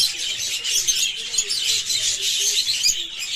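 Bright, continuous high-pitched chirping and twittering from a budgie, close by, with a faint low tonal hum underneath.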